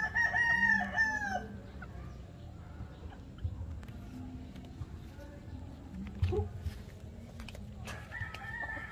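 Golden Boy stag roosters crow nearby, a loud drawn-out call at the start and another near the end, with clucking and other farmyard fowl sounds in between and a voice talking faintly.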